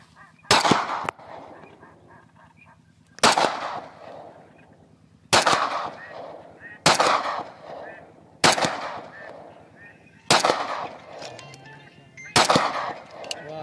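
Seven loud, sharp pistol shots from a Rock Island Armory 1911 in 22TCM/9mm and a Tokarev TT30 at an outdoor long-range shooting session, spaced about two seconds apart. Each crack rings out with a short echoing tail.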